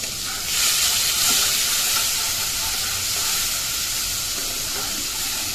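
Onion mixed with salt and turmeric hits hot oil in a wok for a fish curry, setting off a loud, steady sizzle and hiss that swells as it lands and keeps crackling evenly, close up and without talk.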